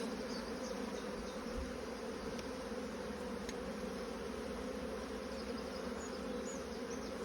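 Honey bees from a strong hive buzzing steadily as they are shaken off a comb frame, a dense continuous hum close by with no voices.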